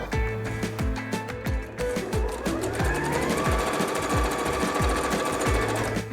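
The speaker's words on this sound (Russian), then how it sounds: "и прокладываем прямую строчку вот здесь на расстоянии 5 мм от края." Sewing machine stitching a straight seam in fabric, a steady fast mechanical clatter with regular needle thumps running continuously, close and loud with no talk.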